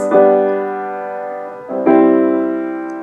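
Two sustained chords ring out in sequence, several voices held together in block harmony, the second entering after a short swell.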